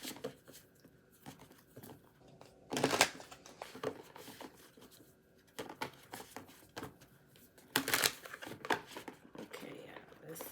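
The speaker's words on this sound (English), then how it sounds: "I'm going to get one more shuffle." Cards are shuffled in two quick riffling bursts, crisp and close, separated by softer handling and light papery rustles.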